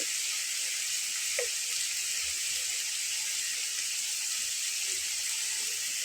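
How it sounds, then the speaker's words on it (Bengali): Shredded potato laccha pakoda deep frying in hot oil, giving a steady, loud sizzle with a constant crackling hiss throughout and no talking. "ঘন ঘন উল্টে পাল্টে ভেজে নিতে হবে"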